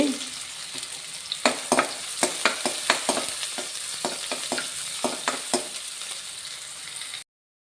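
Onion, green chilli and ginger frying in hot oil for fried rice, a steady sizzle punctuated by a series of sharp spatula scrapes and taps against the pan, close and fairly loud, with no talking.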